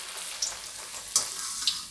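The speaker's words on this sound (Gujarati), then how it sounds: "તો આ રીતે આપણે તળી લેવાના, તેલ એકદમ આવી જવા દેવાનું એમ, એટલે તરત આ રીતે ફૂલી જશે પાપડ." Wheat papad fries in hot oil with a close, steady sizzle, crackling brightly and popping sharply now and then as the wafer puffs up. No one speaks.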